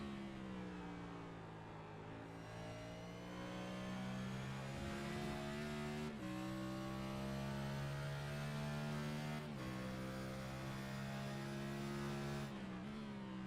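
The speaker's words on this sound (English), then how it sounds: "we got to ride on board with Zach Nichols here and see what's making this 45 machine so fast" An onboard Next Gen Cup stock car engine at Watkins Glen in a sim racing game roars steadily and close, holding a strong buzzing pitch with brief drops at gear shifts and continuous throttle throughout.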